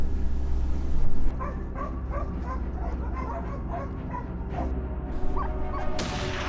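Hunting dogs bark and yip repeatedly during a wild boar hunt, several sharp, mid-distance calls scattered over a steady low outdoor rumble.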